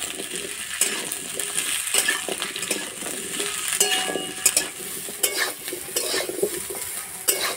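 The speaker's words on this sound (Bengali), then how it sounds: "সবজি বেশি ভাজবো না, এইভাবে একটু হালকা করে ভেজে নেব।" Potato, cauliflower and carrot pieces frying together in a wok, with a steady sizzle under repeated scraping and clinking as the vegetables are stirred with a metal utensil, no talking.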